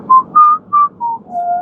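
A person whistles with the lips, five short clear tonal notes in a quick sequence, the last one held longer, close and alone without talking.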